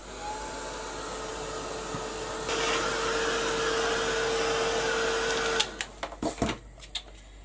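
A heat tool blasts hot air over a craft project, giving a steady whirring roar for several seconds that rises partway through, then cuts off into a few clattering knocks.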